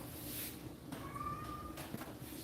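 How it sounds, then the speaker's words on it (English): A cat gives a single faint, drawn-out meow from somewhere nearby, a thin steady tone against quiet room background noise. The space around it otherwise stays low and hushed. "Damn cat."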